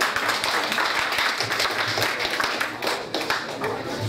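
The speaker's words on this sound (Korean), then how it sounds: "박수로 받아들이기 바랍니다" Members at a Korean community association general assembly clap in approval, a moderately loud spell of applause with some speech and murmuring mixed in.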